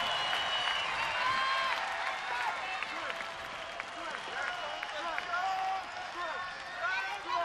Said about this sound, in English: Crowd that's here still into it. They make some noise.